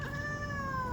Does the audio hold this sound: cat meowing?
yes